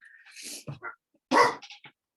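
A dog gives a few short barks and yips close by, in two quick bursts separated by a brief pause.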